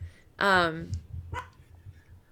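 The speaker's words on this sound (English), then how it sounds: "There's dogs out there." A dog gives one loud, close bark, then a short weaker yip follows outdoors at night in a quiet setting.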